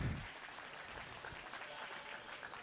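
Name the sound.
applause for youth goat show champions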